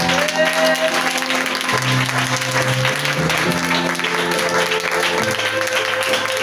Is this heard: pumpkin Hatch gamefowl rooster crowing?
no